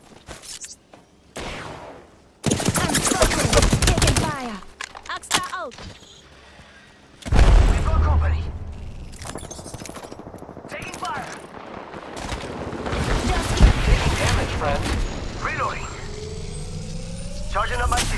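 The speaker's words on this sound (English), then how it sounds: "Taking fire!" Bursts of gunfire and explosive thumps from an Apex Legends firefight, loud clustered volleys separated by short lulls, mixed with game effects and in-game character voice lines throughout.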